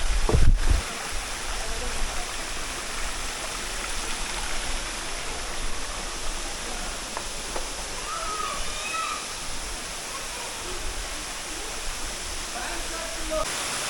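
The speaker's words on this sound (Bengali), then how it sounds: "এখানে জলটা পড়ছে, বাকি ওই দিকে বয়ে চলে যাচ্ছে।" Water pours steadily at Dharagiri waterfall in Jharkhand and flows away downstream, a loud, continuous broadband rush heard up close, with a brief knock near the start.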